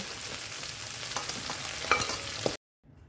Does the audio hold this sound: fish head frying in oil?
yes